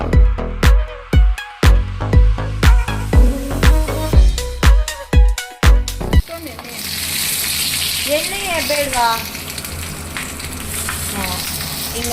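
Fish frying on a tawa over banana leaf: a steady, close broadband sizzle fills the second half under voices, after a stretch of sharp rhythmic knocks and tones.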